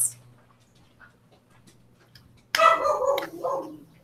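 A dog lets out a sudden burst of close, loud barking after a few seconds of near silence with faint ticking, then the barks trail off.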